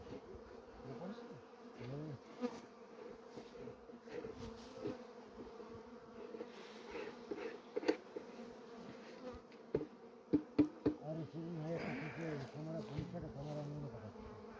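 Dense, close buzzing of many honeybees at a hive, continuous throughout, with occasional sharp taps and knocks.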